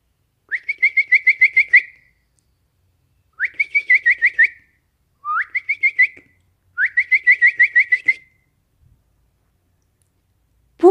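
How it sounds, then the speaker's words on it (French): A song thrush sings at dawn, delivering four separate phrases of rapid, repeated whistled notes with short gaps between them, clear and fairly close against near silence. "Guirigui, la grive, module la première chanson du jour."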